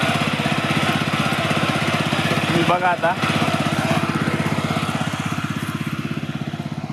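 A new farm ridger machine cutting furrows in a field, its engine chugging in a fast steady rhythm close by while someone talks briefly over it.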